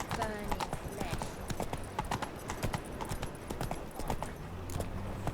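Roach the horse galloping in The Witcher 3, a rapid continuous drumming of hoofbeats close by, with a brief whinny near the start.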